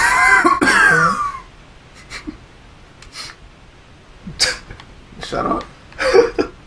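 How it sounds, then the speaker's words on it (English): Someone nearby lets out a loud sneeze and cough at the start, followed by quieter scattered throat noises and brief vocal sounds during a casual Dark Souls gaming session. "I'm really fucking self-conscious about my sneeze."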